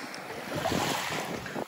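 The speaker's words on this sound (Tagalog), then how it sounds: "Pag nakakarinig ako ng alon," Ocean waves washing on a Hawaiian shore, a steady broad rush of surf with wind noise, continuous and fairly close, no voices.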